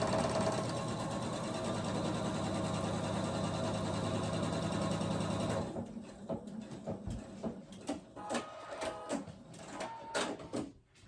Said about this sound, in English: I'm going to go ahead and sew the other side.